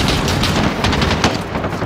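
Dense automatic and rapid rifle gunfire rattles continuously during an embassy firefight in Call of Duty Modern Warfare, loud and close with overlapping bursts and sharp reports throughout.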